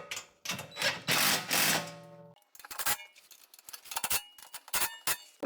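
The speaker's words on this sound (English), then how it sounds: "we take our 7/16 socket and we tighten her down." A 7/16 socket wrench tightening a bolt on a Denago BA CartRack mounted against a golf cart, with sharp metallic clicks and clanks, a burst of loud ratcheting, then scattered lighter taps and knocks.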